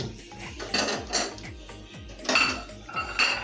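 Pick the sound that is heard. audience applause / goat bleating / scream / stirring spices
stirring spices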